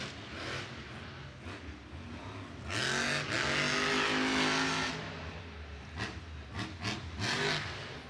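Megalodon monster truck engine at a Monster Jam stadium show, revving hard in loud bursts that swell and fall as it pulls slap and sky wheelies, with a sustained roaring peak in the middle.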